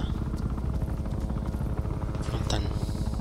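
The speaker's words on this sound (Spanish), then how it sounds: "viene un helicóptero" A helicopter in the Bulletstorm video game drones steadily with a continuous rhythmic rotor chop, loud and close throughout, while someone speaks over it.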